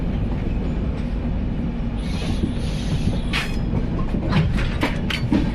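Train running toward Ratnagiri: a continuous loud rumble of wagons on the rails, with faint wheel squeals and clicks from the track, no voices.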